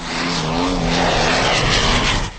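A large model jet aircraft flies past with a loud, steady turbine roar that holds strong throughout and fades slightly at the close.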